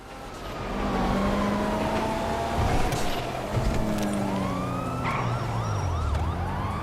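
Police car sirens in GTA Online wail and yelp loudly and continuously over engine and traffic noise, with several sirens overlapping as the pursuit closes in.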